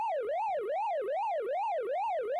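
Pac-Man's rising-and-falling siren from the arcade game in Pac-Man Museum Plus, a steady electronic wail looping about six times, clear and alone.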